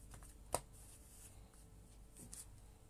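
Playing cards are handled quietly for a card trick, with soft rustling and one sharp snap of the deck, faint against a quiet room.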